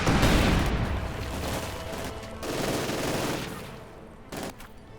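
Bursts of light machine gun and PPSh-41 submachine gun fire rattle through a Company of Heroes 2 battle, dense volleys at first, then a slower stretch and a lone sharp burst near the end, with no voices.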